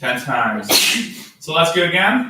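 One sharp, close sneeze bursts out in the middle of an online CrossFit class, sandwiched between stretches of an instructor's spoken coaching.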